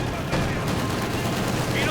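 Machine gun fire in the World War II strategy game Company of Heroes 2 rattles in quick, continuous bursts under a commentator's fast talk.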